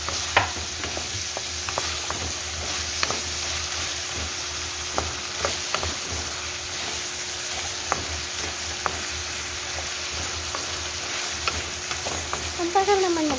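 Bejon ingredients sizzle steadily in a pan while being stirred and browned, with regular clicks and taps from the utensil against the pan and a faint squeak near the end.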